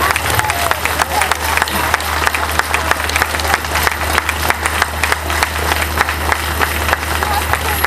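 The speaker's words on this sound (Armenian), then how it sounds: "Խնդրում եմ բոլորդ բարձր ծափարենք այդ տղերքին ու մաղթենք ազատություն։" A crowd at a political rally applauds loudly, with dense, sustained clapping and scattered cheers over a low steady hum, and voices mixed into the noise.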